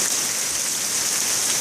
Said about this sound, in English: get a nice video of a huge rainstorm